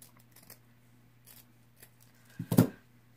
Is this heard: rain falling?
no